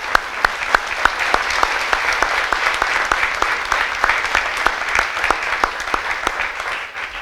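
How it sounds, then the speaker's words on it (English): An audience at a police swearing-in ceremony applauds the newly sworn officers, sustained even clapping with a few sharp distinct claps standing out in a regular pattern throughout. "Let's give them all a collective round of applause."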